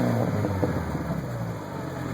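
A 2000 Jetta GL with a 2.0L 8-valve engine and an OBX cat-back exhaust gives a steady, close, loud low rumble as the engine is blipped, with no talking over it.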